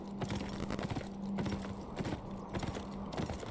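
Horse hooves clip-clop at a steady walking rhythm in the video game Beyond Two Souls, with repeated sharp knocks across the whole stretch, fairly close, joined by a low steady hum and no speech.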